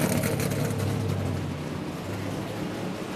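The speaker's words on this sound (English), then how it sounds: "As they fire up and tune on this engine, get ready to go out for practice." A NASCAR race car engine roars loud and close in a garage, a dense rumbling rev that eases slightly and then holds steady in the enclosed space.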